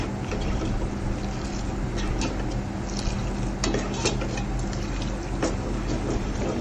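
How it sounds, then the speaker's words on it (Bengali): A milk powder and sugar mixture for homemade ice cream is stirred in a pan on the stove, making a continuous scraping, gently bubbling sound that stays even and close throughout, with no talking. "এভাবে নাড়তে হবে।"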